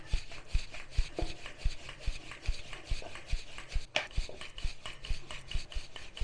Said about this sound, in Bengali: পাতলা করে বেলতে হবে, যতটা পাতলা হবে তত ভালো হবে রোলটা।